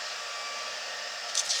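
Heat embossing tool blowing hot air over embossing powder, a steady loud whooshing hiss like a hair dryer, ending with a few brief fluttering bursts.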